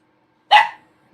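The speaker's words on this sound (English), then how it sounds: "I don't know why he's barking, it's not quite dinner time for him yet." A single sharp bark from an indoor dog, close and loud, breaking an otherwise quiet room and fading quickly.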